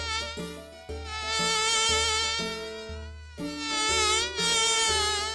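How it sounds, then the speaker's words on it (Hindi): Flies and mosquitoes buzz around a roadside dhaba, a continuous high whining drone with wavering pitch, near and loud, pulsing in overlapping swells with brief dips, and no talking. "ग्राहकों को वो मक्खी और मच्छर बहुत परेशान करने लगे"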